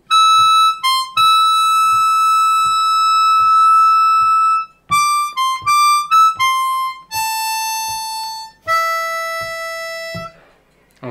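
Harmonica playing a lick up at the high end of the instrument, a run of clear sustained and short tongued notes with a steady pulse beneath, loud and alone with no talking.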